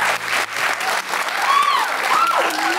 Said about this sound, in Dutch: denk ik eigenlijk dat je ook nog wel een dik vet applaus hebt verdiend.